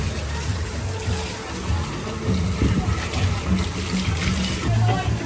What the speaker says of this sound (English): if the sound of water inspires you